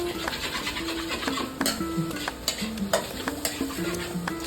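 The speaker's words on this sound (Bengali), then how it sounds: "ভাজছি।" Maggi noodles with egg and chicken are stirred and fried in a home kitchen pan, with a spatula scraping in an uneven rhythm over a soft sizzle, close and fairly loud.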